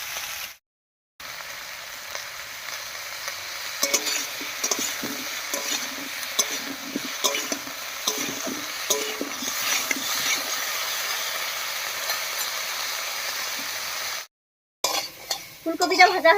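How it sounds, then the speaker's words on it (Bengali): Cauliflower frying with turmeric in oil, a steady sizzle under repeated stirring and scraping of a spatula against the pan, with short gaps near the start and end. "এবারে হলুদ দিয়ে বেশ লালচে রং ধরিয়ে ভেজে নেব।"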